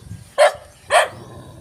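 Two sharp dog barks, about half a second apart, ring out close by against a quiet countryside garden in the Philippines, set off by the sight of another dog.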